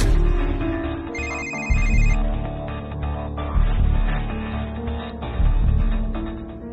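A telephone ringtone rings in a Hindi TV drama scene, a melodic repeating tone with bright electronic chimes layered over background music, loud and continuous.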